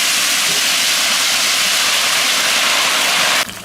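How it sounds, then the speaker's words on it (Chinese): Precooked chopped pork ribs drop into hot oil, setting off a loud, dense hiss of frying that holds steady and then cuts off abruptly near the end. "油降一点，下入剁好的肋子"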